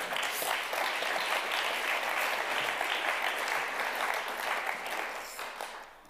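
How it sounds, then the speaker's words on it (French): Audience at the final of a French-speaking eloquence contest applauding, a dense, even burst of clapping that holds steady and then tapers off near the end. "Vous pouvez applaudir le système des points."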